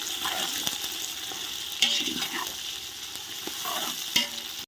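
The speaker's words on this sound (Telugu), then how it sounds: "ఉల్లిగడ్డలు వేసుకుందాం." Onions frying in a pan as they are stirred, a loud close sizzle with repeated scraping strokes of the spoon and a few clinks, no talking.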